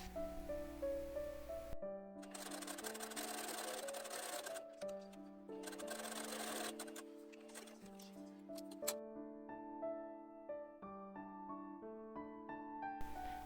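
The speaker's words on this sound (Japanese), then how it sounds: "カーブの縫い代には粗ミシンをかけておきます。" A sewing machine runs a long basting stitch along a curved seam allowance in rapid bursts over steady background music, stopping and starting several times as it stitches.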